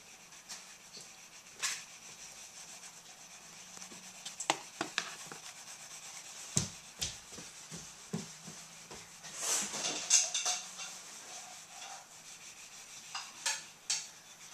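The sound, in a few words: pencil sketching on paper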